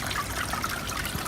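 Water trickles steadily from a small waterfall into a turtle pond, a soft continuous splashing and dribbling, fairly close and moderately quiet with no voices.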